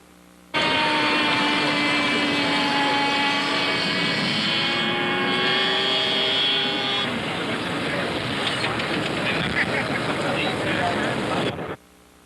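A Ryan Fireball radio-controlled scale model airplane flying at a scale competition, a loud, steady engine whine with a sliding pitch that passes close and holds for about eleven seconds before cutting off abruptly.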